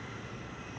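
An airplane engine in Syphon Filter 2 drones in a steady, dense roar for under a second, with no other sounds.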